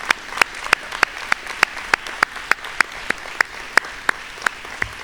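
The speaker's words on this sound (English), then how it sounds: "Come on, stand, let's give them a round of applause." An audience at an awards ceremony stands and claps for families, with sharp, evenly spaced claps that sound close and loud over a softer wash of applause from the crowd.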